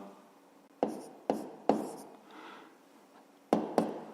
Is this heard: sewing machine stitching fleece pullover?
no